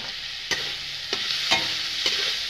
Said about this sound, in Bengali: আলুটা দিয়ে নাড়াচাড়া করে নেব আমি।